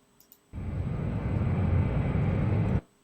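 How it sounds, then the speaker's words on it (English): Plane engine noise from a flight video game featuring a Swedish Thunderbolt fighter, a steady loud roar that cuts in abruptly, holds for about two seconds, then stops sharply. "let's get some plane engine noises in there"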